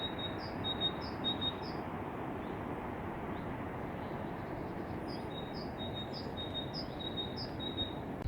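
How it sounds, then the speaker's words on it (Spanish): Birds along a river trail in Valle del Jerte, Spain: brief repeated high chirps in two clusters, fairly distant, over a soft, steady rushing murmur of the nearby river. "el rumor del cercano río, el paisaje, así como los pájaros, hacen sumamente disfrutable esta travesía"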